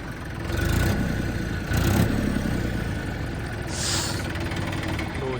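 A steady, rumbling tractor engine idles nearby, with a couple of brief surges in its noise and no talking.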